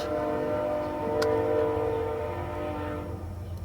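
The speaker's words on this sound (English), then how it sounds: "there's the train again" A train rumbles steadily nearby with a sustained horn tone droning over it, heard indoors as a continuous low roar that eases slightly toward the end.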